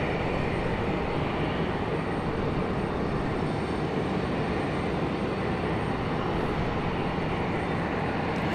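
An airliner in old United livery passes at Raleigh-Durham airport, its engine roar a loud, continuous broadband rumble that holds steady throughout.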